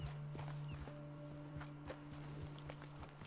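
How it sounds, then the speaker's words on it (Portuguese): Horse hooves clip-clop at a steady walking pace in the open-world western game Red Dead Redemption 2, regular muffled thuds over a constant low ambient hum and faint insect-like chirps. "Deixa eu descer do cavalo."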